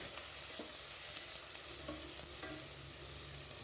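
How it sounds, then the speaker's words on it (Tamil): Sliced shallots sizzling and being stirred in a hot pan of oil while preparing a brinjal and jackfruit seed curry, a steady close frying hiss with occasional clicks of the spoon. "இப்போது சின்ன வெங்காயம் கட் பண்ணி வச்சுருக்கிறதையும் சேர்த்துக்கிறேன் வெங்காயம் ஒரு நிமிஷத்துக்கு வதங்கட்டும்"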